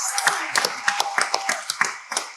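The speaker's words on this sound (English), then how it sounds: "Round of applause for our gladiators on stage," Scattered hand clapping for panelists on stage at an entrepreneurship summit in Dubai, a few distinct, sharp claps in an uneven rhythm rather than full applause, with voices under it.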